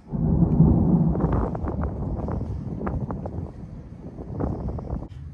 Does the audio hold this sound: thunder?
yes